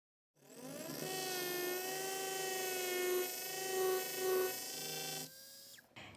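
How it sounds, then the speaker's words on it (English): A high-pitched whining dental implant drill runs continuously for about five seconds through medium bone via a surgical guide sleeve, its pitch wavering slightly under load before spinning down. "Place it on the sleeve, on the guide, and start drilling"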